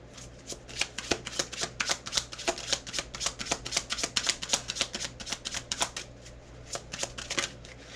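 Tarot cards being shuffled by hand, a steady run of quick riffling slaps and flutters lasting the whole stretch, close and clear with no talking.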